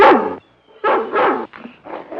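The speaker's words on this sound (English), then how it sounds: "Oh, that dog, he gives me the jitters." A dog barks in three loud, close bursts with short gaps between, the barks rough and throaty, in an old black-and-white film scene.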